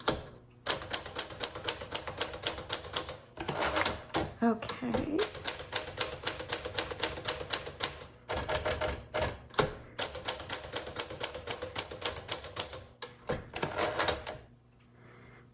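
Someone types on a 1950 Smith Corona Sterling manual typewriter, with rapid bursts of sharp key strikes and short pauses between runs. A carriage return sounds partway through and a brief spoken word comes in near the start.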